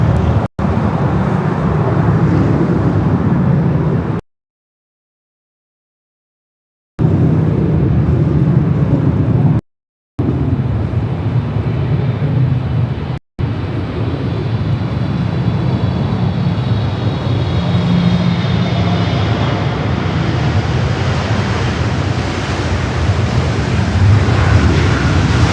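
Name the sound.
airplane rolling down runway at LAX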